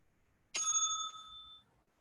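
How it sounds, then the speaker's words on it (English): A single bright bell strikes once and rings on with a clean, sustained tone that slowly fades over about a second, loud and alone against a quiet background. "So that's the bell"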